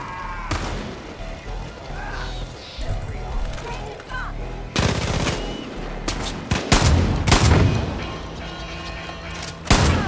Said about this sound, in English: Set the charges and finish this with fireworks.